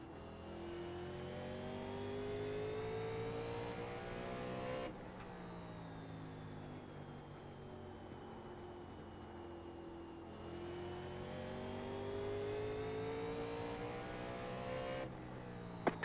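Race car engine in the iRacing sim at North Wilkesboro, a steady loud drone with rising pitch sweeps as the throttle comes back on, repeating in three acceleration pulls over a continuous engine roar, no voices.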